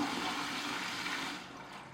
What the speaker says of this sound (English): the flush works perfectly and is quiet enough that it won't wake her up